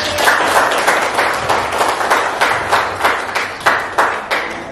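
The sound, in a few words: audience applause after a presentation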